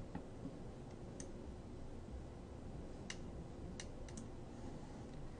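Computer mouse clicks sound faintly, a few sparse, isolated ticks over a quiet, hissy background.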